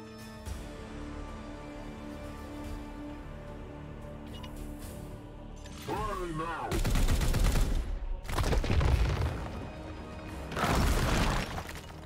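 Squad gunfire in Warhammer 40k: Chaos Gate – Daemonhunters, loud bursts of shooting and impacts in three heavy volleys over a low game music bed, with no talk.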